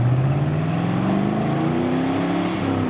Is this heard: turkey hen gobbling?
no